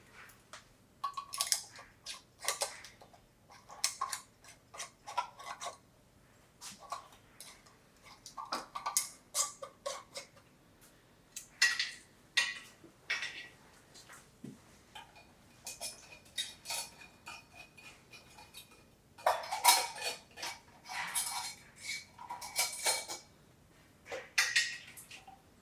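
Metal canning rings being screwed finger tight onto glass jars for pressure-canned wild game stock, heard as faint, scattered clinks and light scrapes of metal on glass in a quiet kitchen, with no speech.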